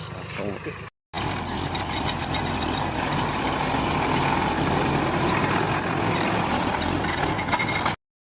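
A tractor engine runs at a steady, droning idle, a continuous rumble filling the whole stretch after a brief gap near the start.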